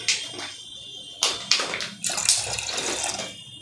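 Water pouring into a container while mixing shampoo, a splashing gush that starts and stops in several bursts, close by and without talk.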